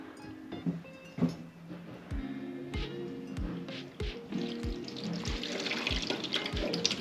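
Water poured over a Ford Transit van window to test for leaks splashes and trickles steadily against the glass, with dull thumps and dripping running underneath; close and continuous, no talking.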